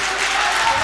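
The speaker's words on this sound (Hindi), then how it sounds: "मैं चाहूंगी एक बार जोरदार तालियां और आप तक।" Mushaira audience applauding, a short dense burst of clapping from a crowd, loud and close.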